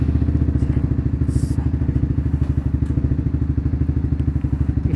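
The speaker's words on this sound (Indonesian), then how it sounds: "langsung aja kita test ride motornya" A Honda CB150R motorcycle with aftermarket CBR handlebars rumbles steadily on a village test ride, its engine thumping in an even, rapid pulse that stays close and constant throughout, with faint wind and road noise above.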